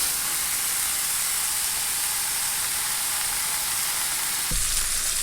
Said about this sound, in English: skillet's hot. Medium-high heat. skin side down a few minutes just to brown it.